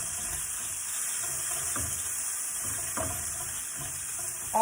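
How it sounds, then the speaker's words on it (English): Seasonings of cumin, red pepper flakes, chili powder and salt hitting a hot frying pan, giving a steady broad sizzle with a few soft stirring scrapes and clinks. "And I'm going to put my seasonings in."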